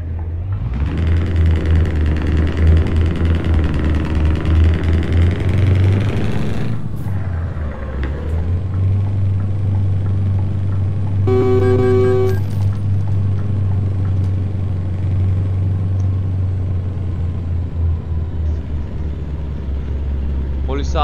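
Scania V8 truck in Euro Truck Simulator 2, its engine and exhaust droning as a steady low rumble, with a brief break near the middle and a short tonal horn-like burst, all under ongoing talk.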